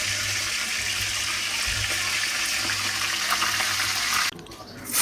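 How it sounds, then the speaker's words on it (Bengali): Chicken pieces fry lightly in oil with a dense, steady sizzling hiss close by that cuts off abruptly near the end. "মুরগি গুলাকে হালকা করে ভাজা হইতেছে।"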